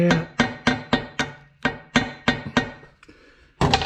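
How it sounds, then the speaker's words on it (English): Light hammer taps on masking tape along the parting surface of a metal intake manifold, about a dozen sharp strikes at a quick, uneven rhythm with a short pause near the end. "I just take a hammer and tap around the parting surface slightly"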